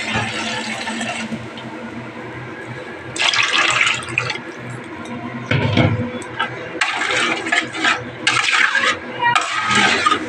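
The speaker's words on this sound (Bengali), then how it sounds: "আর এখন আমি জল দিয়ে দেবো।" Water splashes and pours in bursts into a pan of shoal fish that has been frying in oil, with loud rushing and sizzling surges separated by quieter stretches.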